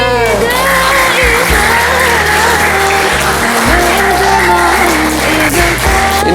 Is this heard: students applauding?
yes